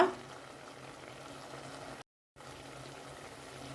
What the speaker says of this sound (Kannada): ಸ್ವಲ್ಪ ಈಗ ಒಂದು 5 ನಿಮಿಷ ಕುದ್ದಿದೆ